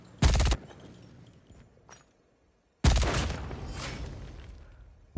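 Gunfire elimination effect from a video game, MG 42 machine gun with rifle shots: two loud separate bursts, a short sharp blast followed after a pause by a longer crackling volley that trails off.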